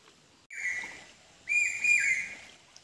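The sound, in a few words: pawsha bird (common hawk-cuckoo) calling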